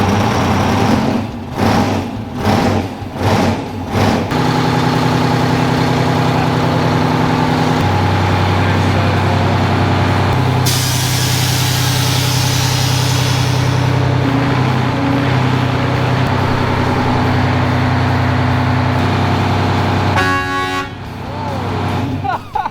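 A 24-cylinder Detroit diesel runs at a steady, deep idle, loud and close, with shifting harmonic drone and a brief horn-like toot near the end; people talk over it at times.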